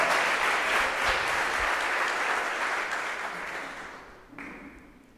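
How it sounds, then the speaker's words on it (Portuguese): Church congregation applause at an anniversary service: a broad, sustained wash of clapping from many people, loud at first and slowly fading, with a sharp noise near the end. "Você pode dar uma salva de palmas?"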